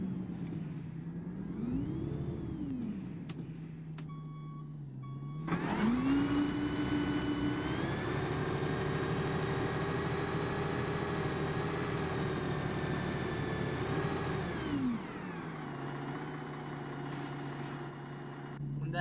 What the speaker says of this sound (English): the engine will stay on because it's not able to switch off yet